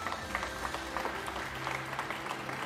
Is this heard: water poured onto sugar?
no